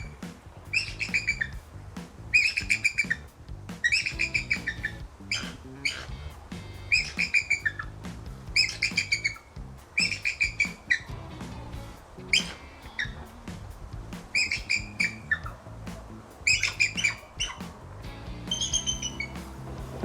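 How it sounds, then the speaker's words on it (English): Bald eagles at a zoo in Montgomery, Alabama, calling in bright repeated bursts of high chirping, piping notes, roughly every second or two for the whole stretch, over steady low outdoor background noise. "That, ladies and gentlemen, would be the sound of freedom. The bald eagle"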